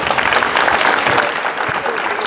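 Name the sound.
audience applause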